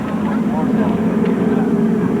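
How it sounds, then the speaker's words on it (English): Navy military airplanes fly a tactical break at the EAA Oshkosh 2009 airshow, a steady loud engine drone filling the air while a voice talks over it. "Look at the four airplanes from our left, just over the smoke break."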